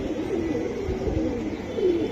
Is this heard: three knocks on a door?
no